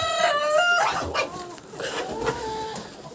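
Chickens cluck and call close by, a series of short bursts of fowl vocalizations with no talking.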